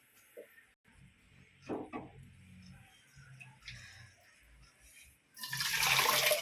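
Water splashes and pours into a pressure cooker near the end, loud and rushing after quieter clinks and handling noises.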